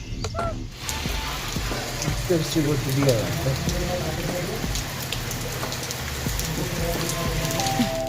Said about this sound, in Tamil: ஒரே மழை சட சட சடன்னு மழை